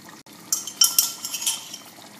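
Garlic being crushed with a pestle in a mortar for Tunisian kammounia with meat and liver: a few sharp clinking and grinding knocks close by, spaced irregularly over a soft background.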